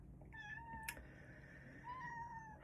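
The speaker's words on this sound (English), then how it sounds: "Can you hear my cat? The cat's come to join me." A pet cat meows twice indoors, two drawn-out tonal cries separated by a short pause, fairly close and clear over a soft room hiss.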